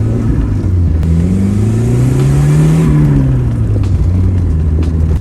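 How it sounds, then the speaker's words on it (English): Lotus Elan M100 turbo builds speed with a loud, steady exhaust note rising in pitch, then easing off with a soft turbo whoosh, heard from inside the car without talking. "Those little turbo whooshes, you know, and the exhaust note."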